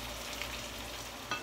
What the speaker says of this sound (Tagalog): Patapos na ang prito namin.